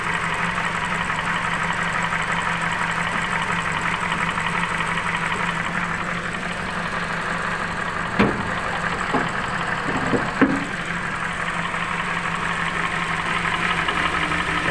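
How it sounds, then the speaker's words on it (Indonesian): A scooter engine with the wrong oil idles steadily, running slightly rough with a faint knocking tick, and a few louder knocks stand out near the end. "ada sedikit suara tuk tuk tuk tuk tuk tuk tuk tuk, tuk seperti itu"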